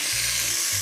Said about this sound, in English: That's a lovely sizzle